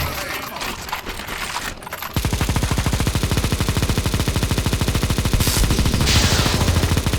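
Sustained automatic gunfire fills a Counter-Strike: Global Offensive zombie escape match as players shoot at a boss, a fast, steady stream of loud shots that starts abruptly after a muddled opening and runs without a break.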